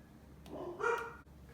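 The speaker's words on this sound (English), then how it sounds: "We're gonna let the dogs bark at the people outside." A single short dog bark, fairly close, followed by a brief quieter yelp, with a low background hum.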